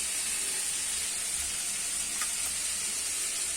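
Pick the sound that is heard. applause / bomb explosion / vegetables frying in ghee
vegetables frying in ghee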